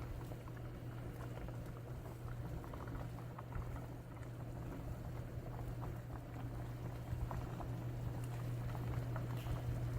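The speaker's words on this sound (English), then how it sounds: "It needs to be boiling when you drop your homemade noodles in" A pot of soup with homemade noodles at a steady boil, a continuous bubbling and liquid churn with a low hum running underneath, even in level throughout.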